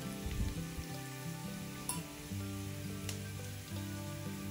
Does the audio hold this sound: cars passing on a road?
no